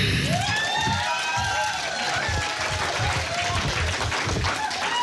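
An audience at a public hearing claps and cheers in a dense, continuous wash of crowd noise, with voices mixed into the din.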